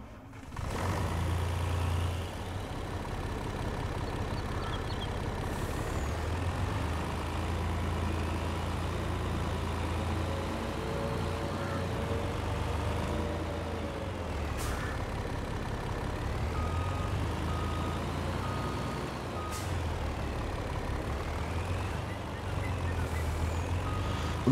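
Volvo F truck engine in Farming Simulator 22, a steady low idling rumble that runs throughout, with brief reversing beeps and air-brake hisses breaking in along the way.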